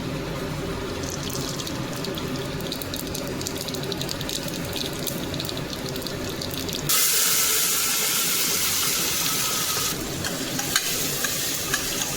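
Steady sizzling of spices tempering in hot oil, with a louder burst of crackling midway, close up and without talk.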